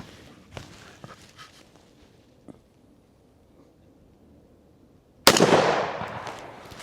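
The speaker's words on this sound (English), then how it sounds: "next up we got buckshot 50 feet." A shotgun loaded with buckshot fires once at a 50-foot target, a single loud, sharp outdoor blast whose roar decays over a second or more after a stretch of quiet with faint footsteps and small knocks.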